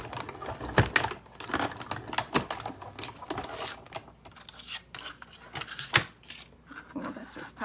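A Stampin' Cut and Emboss machine die-cuts a scrap of orange paper, producing close, busy mechanical clicks, ratcheting cranks and sharp snaps in an irregular burst with no talking.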